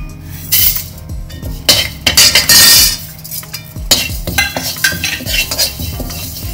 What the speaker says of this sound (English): I'm adding flax seeds.